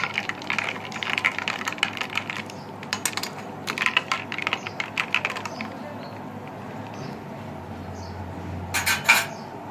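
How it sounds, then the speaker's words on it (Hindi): A metal spoon clinks and scrapes against a glass as black salt is stirred into a raw mango (keri) drink. The taps come in irregular bursts at close range. "अब हम इसको अच्छे से मिक्स करेंगे।"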